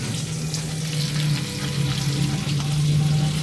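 Tamban fish fry in a pan beside bitter gourd leaves and tofu, giving a steady, close, bubbling sizzle of hot oil with a low hum underneath and no talking.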